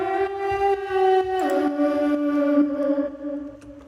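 Processed EDM vocal sample, a sustained sung tone with layered effects that drops in pitch midway, then holds steadily before fading, heard alone.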